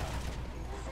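Gunfire from tank cannons or machine guns in the War Thunder video game, heard as a dense, sustained rumble of shots over a heavy low drone for about a second, with no clearly separate bursts.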